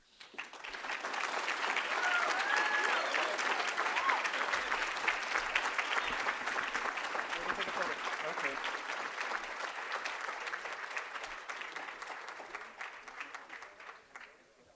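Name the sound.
audience applause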